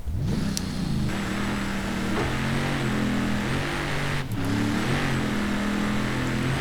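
A Ford Raptor pickup truck engine in Forza Horizon 3 drones loudly and continuously as the four-wheel-drive vehicle climbs, with the revs rising and shifting in steps and a couple of brief clicks over the steady roar.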